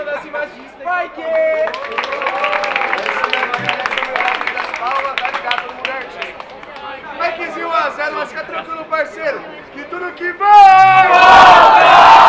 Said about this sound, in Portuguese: Barulho pra quem gostou das rimas de Spike